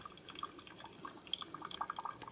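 Cuisinart 12-cup black stainless DCC-1220 coffee maker running a descaling clean cycle, with soft, irregular drips and trickles of water falling steadily and close by, no voices.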